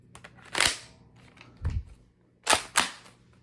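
A Nerf Rival Mirage blaster fires several shots, each a sharp, snappy pop with a short whoosh; four distinct, irregularly spaced bursts sound close and fairly loud with no talk.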